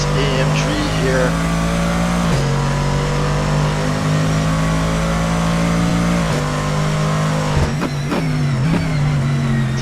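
A Mercedes-AMG GT3 race car roars through a racing video game, the engine holding a loud, steady drone with a few sharp gear shifts and brief dips, while a commentator talks over it.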